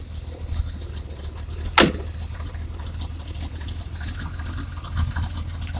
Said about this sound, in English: The rumble of a 68 Corvette, baby.